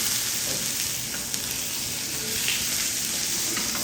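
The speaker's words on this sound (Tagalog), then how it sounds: "Lalagyan na natin ang ating beef patty sa iyo." A beef patty sizzles on a hot stovetop grill pan, a steady, even crackling hiss at moderate volume with no talking.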